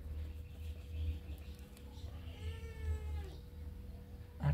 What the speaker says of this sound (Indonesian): Aduh, ada kucing masuk lagi.